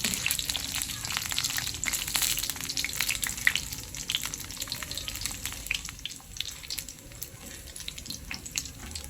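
Kikiam frying in a pan gives a steady, fairly quiet sizzle with crackling pops throughout, with no voices.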